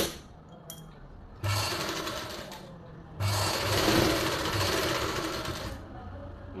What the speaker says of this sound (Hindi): और इसको भी यहाँ से एक सिलाई ऐसे ले लेंगे